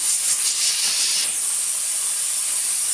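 Okra pieces, tomato, curry leaves and spices frying in hot oil for moong dal sambar, a steady close sizzling hiss that holds evenly throughout with no voices.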